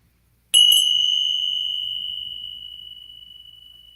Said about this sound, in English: Maybe you connect to the sounds of the bells.